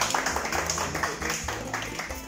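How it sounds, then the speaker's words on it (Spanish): Short burst of audience applause for Rodrigo Camps, race director, at an Inka Hard Latinoamericano 2020 press conference in Lima, Peru. Steady clapping from a small crowd, moderately loud, with no talk. "Un aplauso para Rodrigo, nos viene acompañando."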